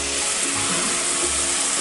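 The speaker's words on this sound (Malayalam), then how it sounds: "ഇതിലേക്ക് ടൊമാറ്റോ പ്യൂരി ഒഴിച്ചു കൊടുക്കാം." Tomato puree hits a hot pan of brinjal masala with steady, close sizzling and frying hiss throughout the short moment.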